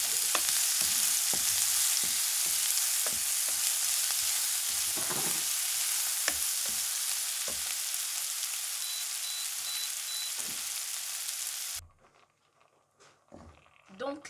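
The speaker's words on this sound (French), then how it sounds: "on va faire revenir en fait nos échalotes" Shallots fry in a cast-iron pot, a steady close crackling sizzle with scattered pops that runs for most of the stretch before cutting off abruptly near the end.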